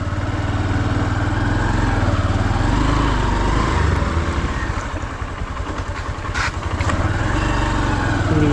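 Two-wheeler engine running steadily nearby on a road in South Goa, a continuous buzzing drone with slight variation in pitch and no talking.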